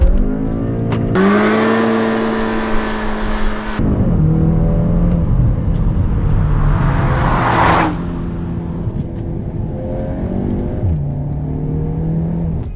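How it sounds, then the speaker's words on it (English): A 2019 Cupra Ateca, a 300 hp crossover SUV, holds a high rev against the brakes during a launch control start, then surges off in a loud climbing acceleration with gear changes and a brief whooshing rush, engine prominent throughout. "turn the ESP off, stomp on the brakes with your left foot and floor the throttle with the right one"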